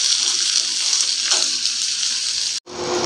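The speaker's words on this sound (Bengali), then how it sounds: "পেঁয়াজগুলো দিয়ে আমি একটু ভালো করে একটু ব্রাউন হওয়া পর্যন্ত ভেজে নিই" Sliced onions frying in a pan until brown: a loud, steady, close sizzle that is briefly cut off near the end and then resumes, with no voices.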